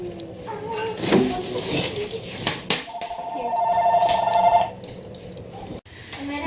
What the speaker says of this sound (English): Natalie, go get the phone, please.